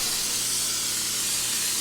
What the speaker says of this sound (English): we want to spray our tins